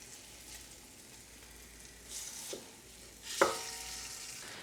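Short ribs browning in a hot pan give off a faint, steady sizzle, with a few louder stirring scrapes and clatters near the end.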